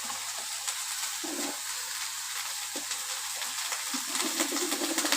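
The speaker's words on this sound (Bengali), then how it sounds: "লাউগুলো সব দিয়ে দিচ্ছি।" Bottle gourd pieces with potato hit a hot kadai for lau ghonto, sizzling and crackling steadily up close while being stirred, with no talking.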